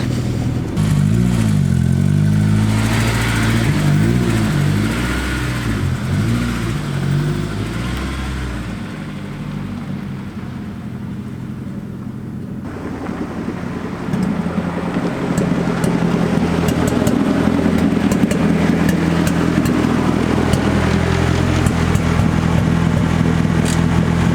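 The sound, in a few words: Honda S2000 car engine as it is moved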